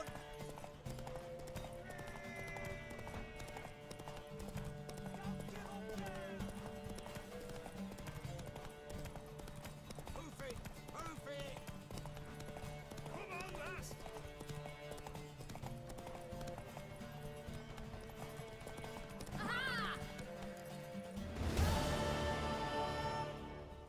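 Rhythmic clip-clop of a horse's hooves galloping steadily, with a whinny near the end and faint voices in the background.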